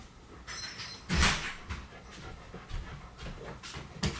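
A dog pants and paws at a door, with a sliding, knocking thump as it comes open and a few softer bumps and scrapes after, close by in a quiet room.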